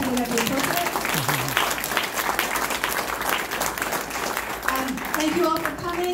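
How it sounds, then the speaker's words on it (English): An audience applauds the candidates at a candidate night, a steady, dense clapping that lasts several seconds with voices faintly underneath. "So if you would like to now applaud our wonderful candidates, I think that would be appropriate."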